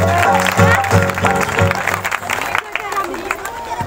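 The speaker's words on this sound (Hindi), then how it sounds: "ताली बजाएंगे परमेश्वर के लिए।" A church congregation at a live healing prayer meeting claps for God, rhythmic group clapping in a steady beat mixed with music and voices, then loosening into a more scattered patter.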